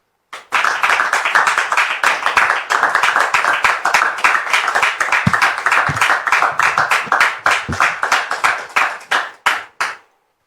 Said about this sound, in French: je voudrais qu'on reçoive encore sous vos applaudissements Dame Prisca